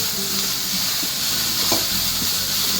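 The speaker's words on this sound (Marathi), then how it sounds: "ते आपल्याला चांगलं 2 मिनिटं मिक्स करून घ्यायचं." Chicken lollipop mixture stirred in a frying pan over a steady sizzling hiss, with a few faint scrapes and knocks of the spoon against the pan.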